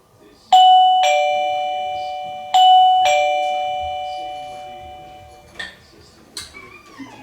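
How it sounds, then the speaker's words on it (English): A doorbell chime set off by a cat sounds several two-tone electronic dings in quick succession, ringing out and decaying clearly in a quiet home, with softer sounds trailing after. "You're ringing the doorbell."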